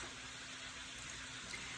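Chicken broth poured steadily into a pan of browned rice, a continuous hissing liquid wash that stays even and fairly quiet throughout with no breaks.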